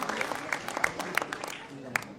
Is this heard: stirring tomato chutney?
no